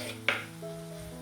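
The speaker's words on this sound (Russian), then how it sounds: "Как только я нарезала перец, я сразу добавляю его к луку." Chopped bell pepper drops into a pan of frying onions, giving a short sharp clatter and burst of sizzle. A quieter steady frying hiss follows.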